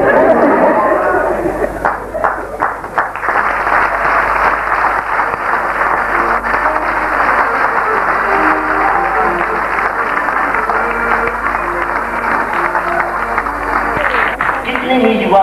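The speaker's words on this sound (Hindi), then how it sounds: "तालियां" Applause from an audience at a comic stage play, broad and sustained through most of the stretch, blended with a loud voice and other stage sound.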